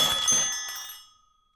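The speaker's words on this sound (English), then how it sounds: "the ringing of a bell as the door to the small bookshop opened and then closed" A small bell on a bookshop door rings brightly as the door opens and closes, a single jangling burst that fades away quickly into silence.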